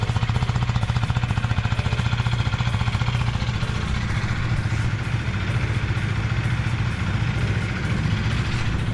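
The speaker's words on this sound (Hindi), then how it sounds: "और अंदर मेरी एग्जॉस्ट के जरा साउंड, एग्जॉस्ट में सुनो कैसा आ रहा है।" A 2025 KTM Duke 250 Gen 3, a 250cc motorcycle, idles close by, its exhaust putting out a loud, fast, regular thumping pulse that stays steady throughout.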